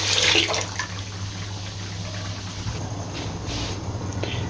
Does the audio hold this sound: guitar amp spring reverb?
no